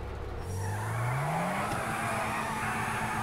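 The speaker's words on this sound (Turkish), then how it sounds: "Turbonun sesi bu arada muazzam olmuş arkadaşlar." A turbocharged car engine in modded GTA 5 revs up steadily, its pitch climbing over about a second before holding a loud, sustained roar with a rushing turbo whoosh.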